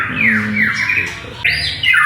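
A white-rumped shama (murai batu) songbird calls loudly up close, sharp sweeping whistles and chattering notes in quick bursts.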